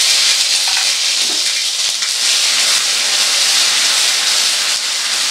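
Chopped ginger and chillies fry in hot oil, giving a loud, steady, close-up sizzle and hiss that runs unbroken with no voices.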